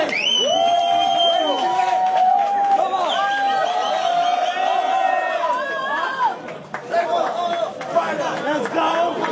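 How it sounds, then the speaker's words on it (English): A crowd at a fight weigh-in cheers and whoops for a fighter, loud and continuous, with shouting voices layered through the roar and a brief dip near the end. "Everyone, give him a cheer."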